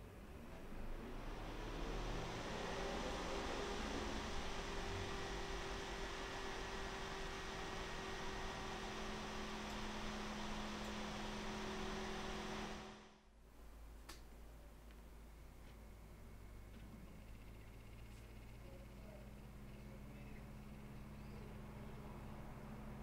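Cooler Master MasterFan Pro 120 PC case fans running, a steady airy whoosh with a faint low hum that cuts out abruptly partway through, leaving a quieter fan whir continuing afterward.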